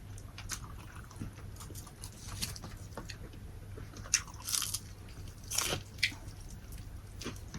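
Crispy fried shrimp tempura being bitten and chewed up close, a series of sharp crunchy bites and softer chewing, quiet and alone with no talk.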